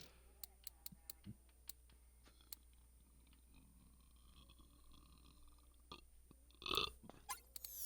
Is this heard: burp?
yes